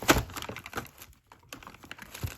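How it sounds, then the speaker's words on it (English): A see-through pink Hello Kitty Dreamcast keyboard is handled at close range, its keys clicking and plastic clattering in short irregular bursts with a brief pause in between. "this is the keyboard that accompanies my see-through pink Hello Kitty Dreamcast"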